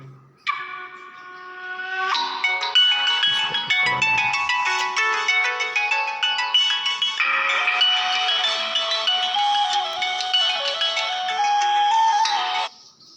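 A mobile phone rings with a bright electronic melody that starts after a brief pause and plays loud and steady for about twelve seconds before cutting off.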